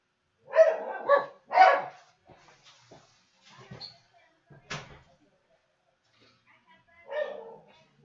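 Several dogs barking in a home, a few sharp close barks in bursts separated by quiet gaps, with a voice speaking in between.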